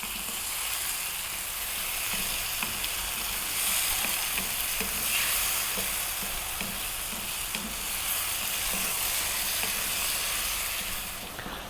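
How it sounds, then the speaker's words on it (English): Ripe, juicy tomatoes cooking down into a masala for potato mushroom curry, a loud, steady wet sizzle and bubbling hiss with occasional stirring scrapes, continuous throughout. "Really want to cook those tomatoes down"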